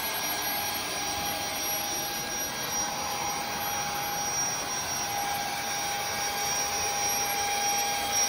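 A Numatic NuClean Compact 220NX floor scrubber runs steadily, a constant high motor whine and airy hiss with a thin sustained tone, even in level with no break.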